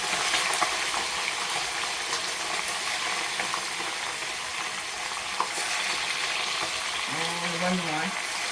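Chicken skin crackling as it fries in a pan, a steady dense sizzle with fine popping that runs throughout, close and fairly loud.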